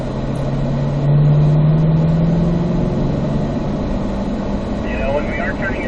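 A car accelerating up through the gears to fourth on the Spring Mountain North Course race track, a close, steady engine drone that rises in pitch, with an instructor's voice talking over it.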